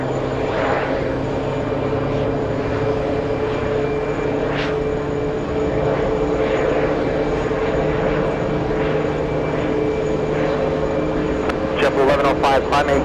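A JetBlue airliner going around at JFK Airport gives off a steady, continuous jet engine roar, with people talking over it and a few sharp clicks near the end.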